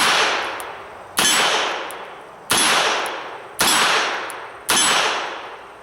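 A Smith & Wesson 686 .357 revolver fires double action at a steel target 10 yards out: five loud, sharp shots about a second apart, each with a ringing metallic clang that decays before the next.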